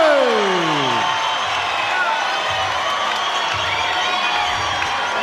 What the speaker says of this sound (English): spontaneous applause ringside for Peter the lover boy Mashamaite